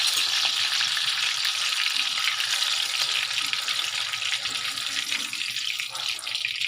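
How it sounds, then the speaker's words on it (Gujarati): Chillies deep-frying in hot oil give a continuous bright, crackling hiss, close and steady throughout with no talking. "આપણે તેલ આવે એટલે મરચાંને તળી લેવાના છે."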